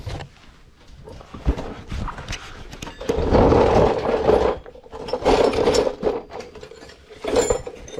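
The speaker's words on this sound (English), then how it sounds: "Beat on it until it comes free like so." Hammering on a front CV axle of a Polaris Sportsman 570 SP ATV to knock it free, a run of sharp metallic impacts in irregular bursts, close by and fairly loud, with clanking and scraping between strikes.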